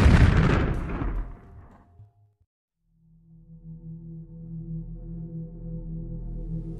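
A lamp bursts in a sudden loud explosion that crackles and rumbles away over about two seconds, followed by a moment of silence, then a low droning tone swells and holds.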